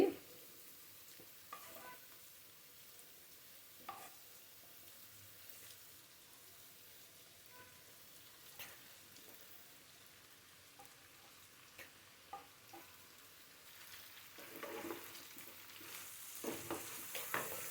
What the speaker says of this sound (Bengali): সিমটা একটু ভেজে নিলে সিমটা খেতে একটু মজা লাগে